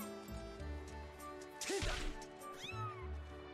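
A cat meows in the video game Skyward Sword HD, a short cry over steady game music and ambience, with a crash-like hit in the middle.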